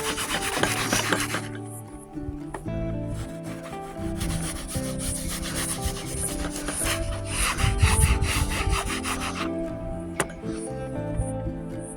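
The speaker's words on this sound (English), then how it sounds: "get a rag, a bit of tabs, and we can just rub it out" A rag with a bit of solvent rubs oil paint off a canvas during outdoor painting, producing close, repeated scrubbing strokes over a steady tonal background.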